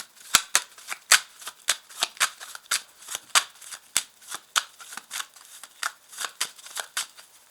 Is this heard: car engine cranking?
no